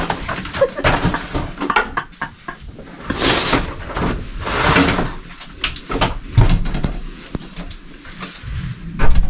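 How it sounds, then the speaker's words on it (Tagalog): A lobby door swings shut at night with a series of knocks, scrapes and rattles from the door and its frame, heard up close over a few seconds. "isara yung pintuan ng lobby"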